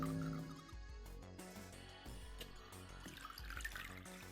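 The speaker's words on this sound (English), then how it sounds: "Oh, I hate the water noises." Water noises in the video game 9 Hours 9 Persons 9 Doors: a soft, continuous watery wash layered with tonal game music, steady and fairly quiet throughout.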